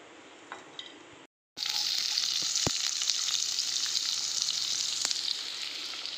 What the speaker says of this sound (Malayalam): എന്നിട്ട് നമുക്കതിലേക്ക് സവാള ഇട്ട് കൊടുക്കാം.